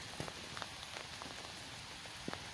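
Steady heavy rain falls at Hatley Castle in Victoria, BC, a constant close hiss of drops hitting nearby surfaces, punctuated by scattered louder individual splats.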